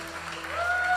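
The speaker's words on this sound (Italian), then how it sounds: "Facciamo un applauso grande al nostro Dio." Applause from a church congregation at a youth worship service, a broad wash of clapping that swells slightly over a second, with a sustained tone ringing through it.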